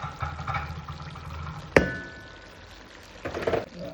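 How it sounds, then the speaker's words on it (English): Ackee is tipped into a cooking pot with a sharp clattering thunk, followed by a short soft sizzle and a few small stirring clinks, close by and with no talking. "I'm gonna add my ackee."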